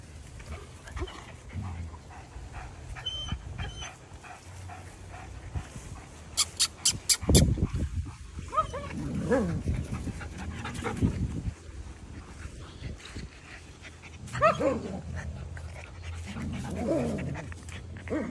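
German Shepherd puppies pant and whimper nearby, with a few short yips partway through, against a quiet background.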